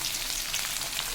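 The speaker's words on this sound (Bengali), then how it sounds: "লাল লাল করে পেঁয়াজ আর রসুন ভাজা হচ্ছে।" Onions and garlic frying in a pan for chili chicken give off a steady, close, unbroken sizzle that stays even from start to finish.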